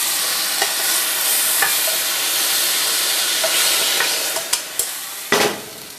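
Pork sizzles steadily in a hot frying pan while being stirred, with a few sharp scraping clicks near the end.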